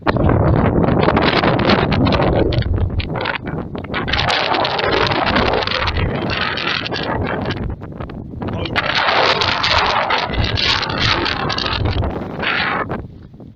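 Strong wind sweeps across an open marsh and buffets the microphone with a loud, continuous roaring rumble. It swells and dips in gusts for the whole stretch and drowns out everything else.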